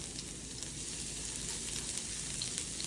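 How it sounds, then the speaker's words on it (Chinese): Minced garlic sizzles as it fries in hot oil in a pan, making a faint, even hiss with fine crackling that holds steady throughout. "那蒜末的话呢，爆的时候不要爆太焦"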